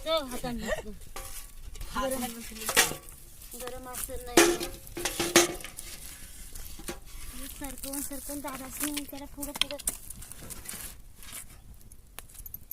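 Cashew seeds roasting in a pan outdoors at a farm, stirred with a rattling, scraping metallic clatter and light sizzle under nearly continuous conversation.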